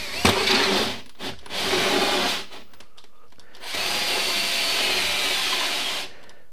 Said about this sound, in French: Je prends ma petite visseuse avec la scie cloche.